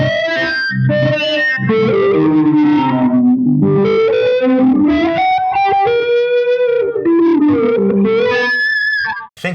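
A heavily filtered, distorted effects-pedal sound sweeps through gliding, vowel-like tones with chorus and echo, its pitch bending up and down across loud, sustained phrases before cutting off abruptly.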